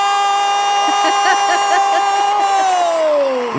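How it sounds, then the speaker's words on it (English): A canned cheering sound effect plays loud and steady, a crowd whooping and hollering over a sustained tonal buzz that slides down in pitch at the end. "This is the most heteronormative cheering sound effect ever"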